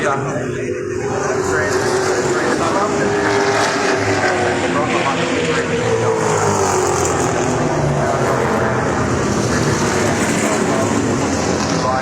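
A green Falcon race car at Pukekohe Park Raceway roars loudly and continuously, its engine pitch sliding as it passes close by, with broad rushing noise throughout.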